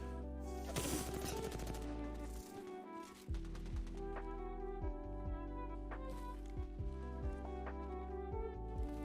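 Video game gunfire in Apex Legends, focused on the character Horizon, sounds as rapid, loud automatic bursts with sharp repeated shots and metallic clatter over a steady game soundscape, with a short lull partway through.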